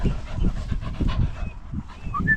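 A dog pants rapidly and rhythmically close by, with a few faint high chirps in the background.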